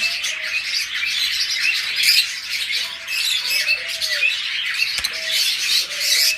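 Pet budgerigars, forpus parrotlets and lovebirds chirp and squawk together in a dense, continuous chorus, with repeated sharp calls close by and no talking.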